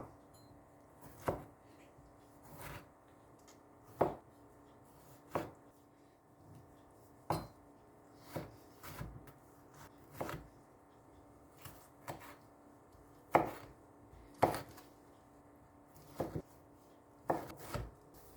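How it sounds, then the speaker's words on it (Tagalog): A knife cuts a medium tomato into cubes on a cutting board, with soft, irregularly spaced chopping thuds, one every second or so, close by and fairly quiet. "get one medium size of tomato. This time, we need to cut into cubes."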